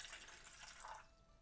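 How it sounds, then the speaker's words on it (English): Water poured into a stand mixer bowl as the first ingredient for soft gingerbread cookie dough: a quiet, steady splashing hiss that runs the whole short stretch, with no talking. "next we're going to measure out 3 ounces of water. Now it's important that you put the water first"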